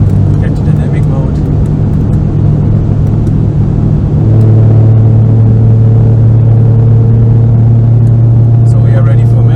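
An Audi RS3 8V1 with a CZG five-cylinder engine, steel-block build and stage 4 tune, idling steadily on a dyno in a workshop, a loud continuous engine drone that steps up slightly in pitch midway.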